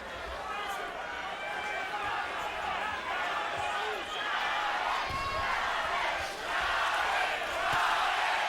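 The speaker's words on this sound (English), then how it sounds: "Here's the crowd beginning to chant Chavez, Chavez." Arena crowd at a Julio Cesar Chavez Jr. versus Bryan Vera boxing match, a broad steady roar of many voices with rhythmic chanting surging through it, carrying on throughout under a commentator's voice.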